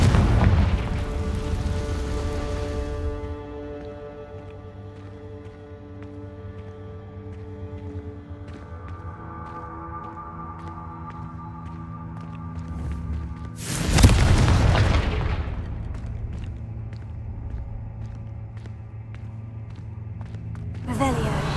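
A Confringo blasting spell explodes in the Hogwarts Legacy video game: one loud, sudden boom with a roaring burst midway, set against a sustained, droning musical game background.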